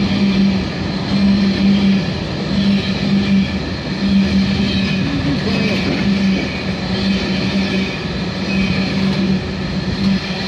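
A freight train with ballast wagons rolls past with a steady rumble and rhythmic clatter of wagons over the rails, loud and sustained.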